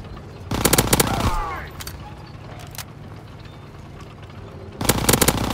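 Call of Duty WW2 video game gunfire: two loud, close bursts of rapid automatic fire, one near the start and one at the end, separated by quieter battle noise and a brief shouted voice.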